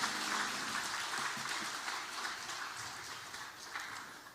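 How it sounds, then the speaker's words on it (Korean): Church congregation applauding the Zion choir during a Sunday worship service, a steady, fairly quiet wash of clapping hands across the room that gradually tapers off. "섬겨주신 우리 시온 찬양대를 위해서도 박수 한번 해주시겠습니다"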